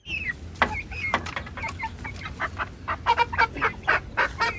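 Several Brahma chickens on a farm clucking and squawking, a run of short overlapping calls close by that grows busier and louder toward the end.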